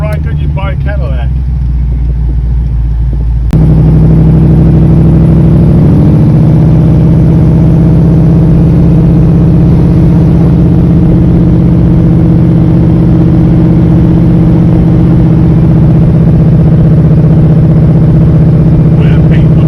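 A 1935 Chevy street rod engine drones steadily and loudly while the car is driven, a constant close rumble after a brief quieter start, with someone talking over it.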